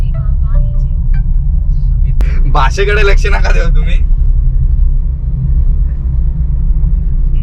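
A four-wheeler driving on a mountain road on the way to Bhimashankar, with a steady low engine and road rumble throughout and a person talking briefly partway through.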